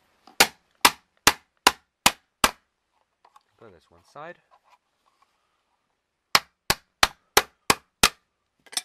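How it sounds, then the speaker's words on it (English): A hammer strikes the plastic casing of an office phone in two sharp bursts of six evenly spaced blows each, separated by a pause in which someone speaks briefly. "But we got ourselves our hammer."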